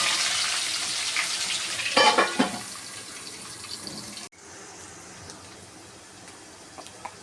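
Chopped medium onion hitting a hot pan for paneer masala curry, a loud spreading hiss and sizzle with a burst of crackles as it goes in, then a quieter steady fry after an abrupt drop.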